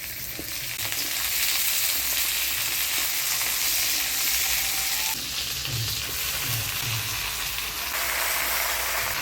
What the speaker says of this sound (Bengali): পেঁয়াজটা লাল লাল হয়ে আসছে, এবার সবজিগুলো দিয়ে দিব।